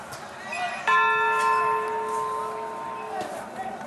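A single bell in a church tower strikes once with a loud, bright clang, then its steady ringing tone holds and slowly fades over a few seconds, with faint background voices and outdoor ambience.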